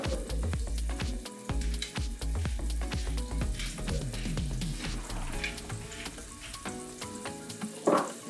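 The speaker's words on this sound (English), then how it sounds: "You should hear that little bit of sizzling" Veal scaloppine sizzles in a frying pan, a close, busy sizzle with sharp crackles and clinks that eases into a quieter hiss toward the end.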